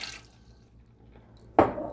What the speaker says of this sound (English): we're also going to put in 6 cups of water